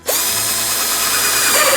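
A power drill whirs continuously at high speed, biting into a thin plastic 5-gallon bucket with a bright, buzzing grind, close and loud.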